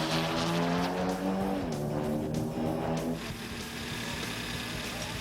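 Twin-engine street race car, one motor front and one rear, turbocharged on about 15 pounds of boost, running pure alcohol with nitrous; a loud, steady engine roar that drops in pitch twice, as if shifting, with no talking.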